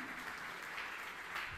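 A church congregation claps together in steady, dense applause during a sermon, a continuous wash of many hands, fairly soft and uniform throughout.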